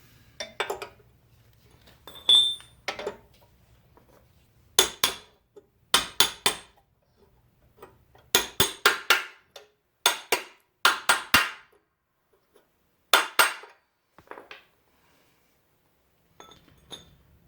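A hammer taps a shift fork and rail into place on a 1942 Farmall H tractor, giving bright metallic clinks in quick clusters of two to four strikes separated by short pauses.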